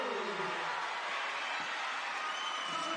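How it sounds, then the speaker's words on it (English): Basketball arena crowd at a WNBL game between the UC Capitals and Perth Lynx, a steady loud roar of cheering and noise after a made free throw late in the game, continuous throughout. "Crowd up and about at the NCCC"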